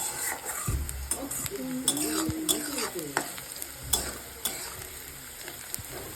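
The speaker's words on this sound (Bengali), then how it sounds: "আমি এখন ভাজছি" Vegetables for chowmein sizzle in a frying pan while a utensil stirs and scrapes against it at irregular moments; a person talks over the cooking.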